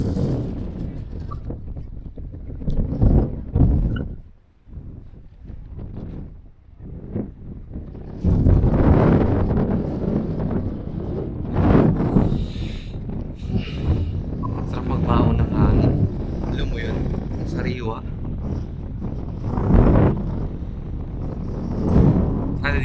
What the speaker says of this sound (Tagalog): naririnig nyo rin yung boses ko dahil talaga ang lakas ng hangin